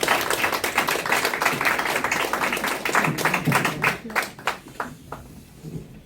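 An audience applauds at a Korean political press conference, a brisk wash of clapping that holds steady before thinning into a few scattered, separate claps as it dies away.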